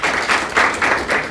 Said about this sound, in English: Please applaud for him.